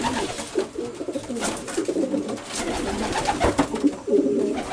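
Racing pigeons coo repeatedly in soft, rolling bursts at close range, overlapping one another in a busy loft or basket setting with faint background noise.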